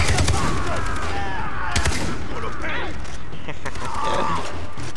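Rapid gunfire in the video game Far Cry 3, loud bursts and shots layered with a player's shouting and excited voices over a dense, constant game soundscape.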